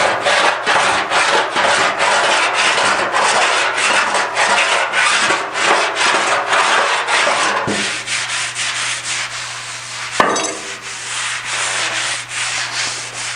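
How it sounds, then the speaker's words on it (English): Steady rasping strokes of a file on an aluminum auto body panel during dent repair, a rhythmic, loud, close scraping that changes tone near the end, with one sharp tap. "So, take the file."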